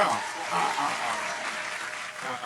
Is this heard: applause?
yes